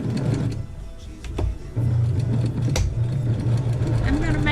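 A home sewing machine runs in steady bursts while quilt blocks are stitched for a Christmas table runner, a low mechanical hum with brief pauses between runs, close by, with some talking over it.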